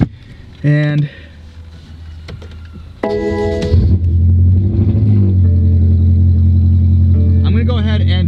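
BMW M6 engine cranked and started, a brief starter whine, then the engine catching with a loud rumble and settling into a steady idle, with a short voice in between.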